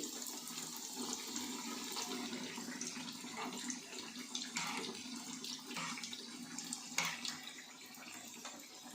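Fish pieces frying in hot oil in a pan over a low gas flame in a home kitchen in Bengal, giving a steady, close sizzling hiss with small crackles and pops, no voices.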